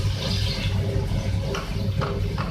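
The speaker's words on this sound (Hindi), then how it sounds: "और अब मैं इसमें ऐड करूँगी वाटर 1 कप।" One cup of water poured into a pan of fish curry after the masala has cooked down and released its oil, a steady splashing pour running throughout without talk.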